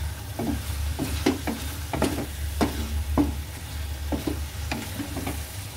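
Menudo sautés in a pan, a constant sizzle under repeated scraping stirs that come in an irregular rhythm, close and clear with no talking.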